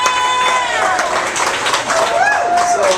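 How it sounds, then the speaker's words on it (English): Comedy club audience applauding and cheering in a dense, steady wash of sound, with a voice talking over the crowd throughout. "Let's give one more round of applause to K."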